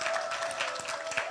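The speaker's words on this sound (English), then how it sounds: "can you clap?" Audience clapping at a women achievers conference and awards event, a steady wash of many hands clapping throughout, fairly even and not very loud, with a faint tone underneath.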